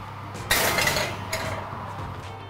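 Metal cupcake molds holding onion bhajis clink and rattle briefly as they slide into a hot oven, one sharp clatter followed by fainter scraping and a second softer knock.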